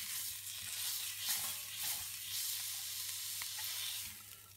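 Lamb leg meat browns in a cast-iron cocotte, hissing with a bright, steady sizzle that swells and eases slightly, heard alone without talk.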